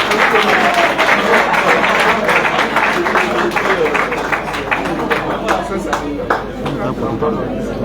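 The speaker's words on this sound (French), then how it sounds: "Ça s'applaudit, chers amis" A room of guests applauds a minister after he is handed a token of recognition, loud close clapping mixed with crowd chatter and murmuring voices, sustained across the whole stretch.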